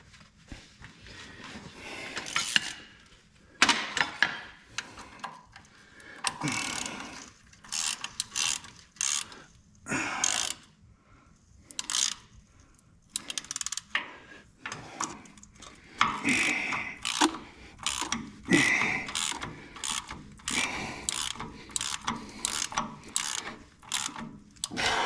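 A ratchet wrench snugs up bolts during a brake job on a U302, bursts of rapid clicking ratchet strokes with short pauses between them, close and fairly loud, with some clanking of tools.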